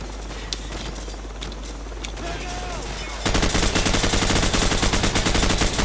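Gunfire in the Call of Duty Modern Warfare video game, with scattered shots over a quieter game background that jumps into a loud, sustained burst of rapid automatic fire for the second half.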